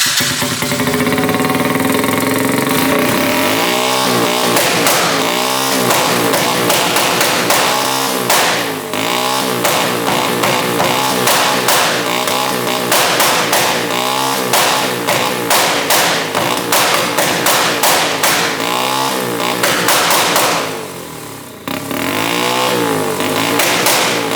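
A 125cc turbo go kart engine with EFI fires rapid two-step ignition-cut pops and bangs, loud and close, in sputtering bursts between revs for over twenty seconds.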